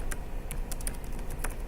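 Keystrokes on a computer keyboard, a handful of separate clicks spaced irregularly over a steady background hum, close and fairly quiet.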